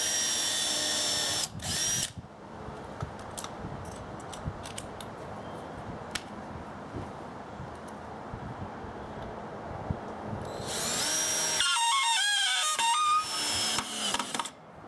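A power drill pre-drills holes in a 2x4 wooden frame for 2.5-inch screws, its loud, close whine sounding in bursts at the start and end, with quieter handling noises between.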